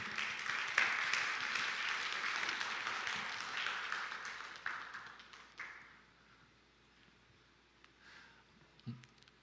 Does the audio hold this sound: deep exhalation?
no